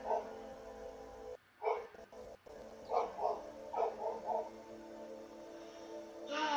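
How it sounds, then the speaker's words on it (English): A dog next door barks in a series of short, muffled yips and bow-wows from some distance, coming in a quick cluster and then a couple more, with faint talk nearby. "The dog out front is losing its mind. There's a dog next door."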